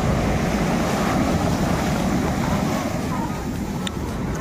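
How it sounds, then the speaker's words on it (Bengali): Rough, storm-churned sea surf at night on Old Digha beach after rain, a loud continuous roar of breaking waves with wind buffeting the microphone throughout. "একটু বৃষ্টির জন্য সমুদ্র উত্তাল হয়ে গেছে"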